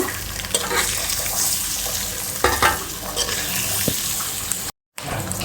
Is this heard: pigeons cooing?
no